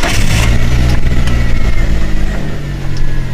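A buggy's engine runs loud and close, revving as it pulls away and holding a steady drone throughout, with no talking.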